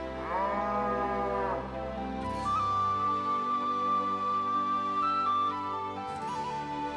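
Cattle moo repeatedly, long low calls overlapping one another, with a steady tonal hum beneath them.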